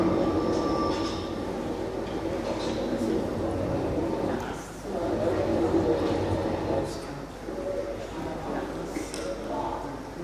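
A narrow-gauge railway train heading to Chamonix rumbles along steadily from inside, wheels and carriage noise filling the background with occasional higher squeals, while people talk throughout.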